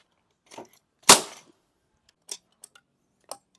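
A high-pressure nail gun drives a fastener through a light fixture box into a concrete slab, giving one loud, sharp bang followed by a short decay, with a few quieter clicks and knocks from handling before and after.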